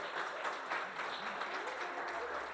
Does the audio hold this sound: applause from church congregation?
yes